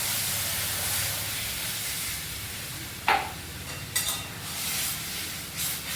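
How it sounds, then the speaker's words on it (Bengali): Water goes into a hot pan of frying mango and spices, giving a broad, steady hiss of steam with a few sudden louder splashing bursts near the middle and toward the end. "এবার জল দিয়ে দিচ্ছি"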